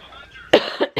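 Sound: dry raspy cough

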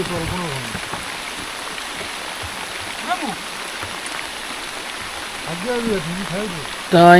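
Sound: rain

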